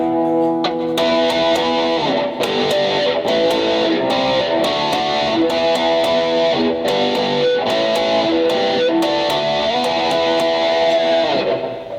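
Distorted electric guitar playing a riff with palm-muted chugging, loud and continuous with rhythmic accented chord stabs throughout, heard during a live guitar tone and technique clinic in a music store.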